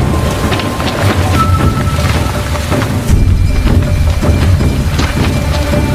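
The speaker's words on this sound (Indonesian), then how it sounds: "Hujan deras yang mengguyur markas pasukan Burma" Heavy rain pours down steadily over a Burmese army camp, a dense continuous roar with low rumbles and gusts of wind, growing slightly louder midway through.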